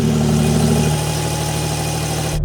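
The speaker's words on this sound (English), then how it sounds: "Let's have a listen to the cold start on this new T-hybrid engine." A new Porsche 911 with the T-hybrid engine runs right after a cold start, a loud steady high-idle drone with a low rumble, heard close and alone before it cuts off abruptly.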